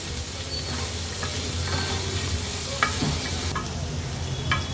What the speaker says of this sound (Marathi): आवडीप्रमाणे हिरवी मिरची आता हे थोडं शिजवून घ्यायचं आहे